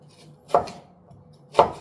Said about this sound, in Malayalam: ഇച്ചിരി സവാളയൊക്കെ അതിനകത്ത് അരിഞ്ഞിട്ടേ ഒന്ന് എടുക്കണം